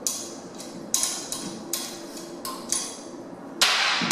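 A number 2 screwdriver loosens the screws on a ceiling fan blade, producing a series of sharp, close metallic clicks and ticks at irregular intervals, ending in a brighter rasp.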